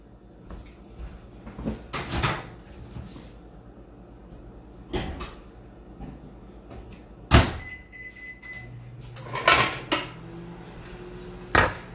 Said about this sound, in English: I'm gonna put the whole thing in for 2 more minutes into the microwave.